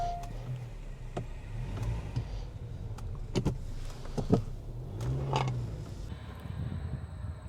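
A car is parked, with creaks, mechanical clunks and a low engine rumble, a few sharp thumps and clicks spread across several seconds, close by and moderately quiet.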